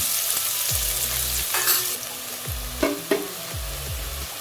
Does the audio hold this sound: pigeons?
no